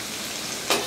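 Clam chowder ingredients fry on a Blackstone griddle top outdoors, a steady soft sizzle that swells louder near the end, close by with no talk.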